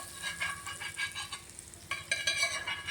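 Tempering sizzling in hot oil in a pan for a lemon coconut chutney, stirred continuously: a close, bright crackling sizzle with rhythmic stirring scrapes, no voices.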